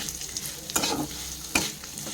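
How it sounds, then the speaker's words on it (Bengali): Frying vegetables with sugar are stirred in a pan, giving a steady close sizzle broken by two scraping stir strokes. "এবার চিনিটা দিয়ে দিলাম, ভালো করে নাড়িয়ে নিচ্ছি চিনিটা দিয়ে।"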